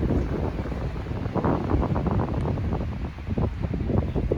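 Strong wind blowing and buffeting the microphone, a rough continuous roar with gusty surges.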